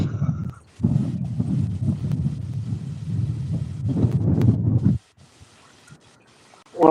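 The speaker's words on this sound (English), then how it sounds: "20 mile an hour winds right now" Strong gusty wind buffets a microphone outdoors during trout fishing, roaring in heavy low rumbling blasts for several seconds, dropping away abruptly, then surging back at the end.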